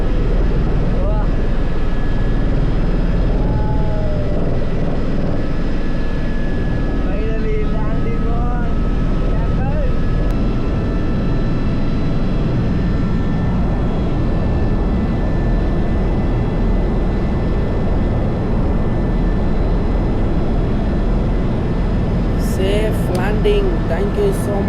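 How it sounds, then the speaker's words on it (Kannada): A helicopter in flight during a sightseeing ride over Dubai, its steady cabin drone and rotor noise loud and continuous throughout, with people talking over it. "ಓ ಕ್ಯಾಪ್ಟನ್, ಉಲ್ಟಾ ಮಾಡ್ತಾ ಇದ್ದೀರಾ ಹೆಲಿಕಾಪ್ಟರ್ನ"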